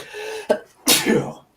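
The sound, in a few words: sneeze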